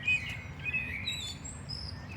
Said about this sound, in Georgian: ნახეთ როგორ გალობს ჩიტი და რა სასიამოვნო ჟღურტულის ხმა ისმის.